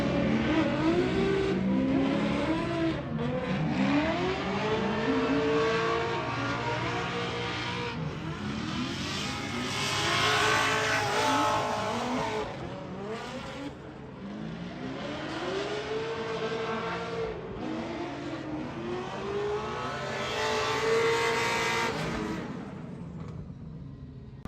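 Race car lapping a circuit at a HotPit Autofest round, its engine loud and close throughout, rising and falling in pitch with repeated revving through gear changes and corners, with no talk.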